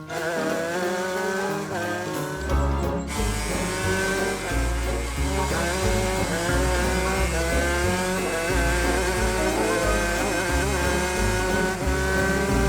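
A cartoon race car drives along, its loud engine hum running steadily beneath bright cartoon music for the whole stretch, with no talking.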